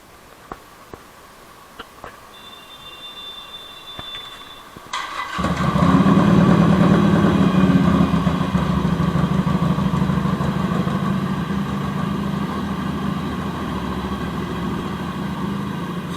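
A Harley Davidson Superlow motorcycle is cold-started after a few seconds of quiet, and the engine catches and settles into a loud, steady, close-up idle that runs to the end.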